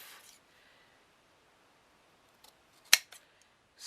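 Scissors make a single sharp, crisp snip while cutting shadow box pieces, with a few faint handling clicks around it in an otherwise quiet room.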